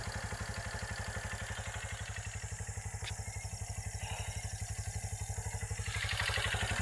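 A motorcycle engine idles steadily up close with a low, pulsing rumble, a brief click partway through, and revs slightly near the end.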